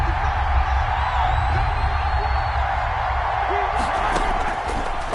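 A stadium crowd in a PS4 American football game roars steadily as a big third down approaches, a dense continuous wall of cheering with a few sharper shouts and claps near the end.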